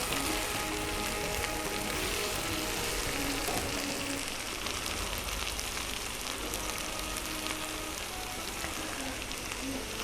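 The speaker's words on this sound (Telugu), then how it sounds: "బాగా ఆయిల్లో వేయించుకోవాలి." Okra fries in hot oil with a constant dense crackling sizzle at moderate level for the whole stretch, with no voices.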